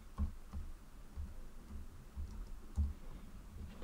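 Keystrokes on a computer keyboard while a short word is typed during a software tutorial, a few soft, irregular taps spread over a quiet background with no talking.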